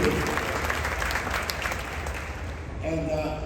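A large audience claps for a cruise ship's crew aboard Royal Caribbean's Wonder of the Seas, dense continuous applause filling the space, steady and loud, with a voice emerging near the end.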